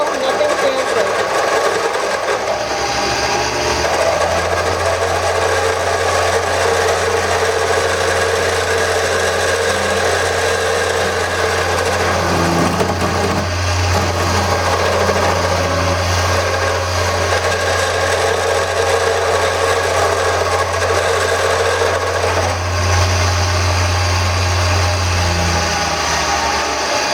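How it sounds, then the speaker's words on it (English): A wood lathe spins an ambrosia wood tool handle while it is smoothed, a steady close motor hum with a low droning tone and rough scraping texture running throughout. "I'm going to smooth this up a little bit more and then I'm going to start sanding."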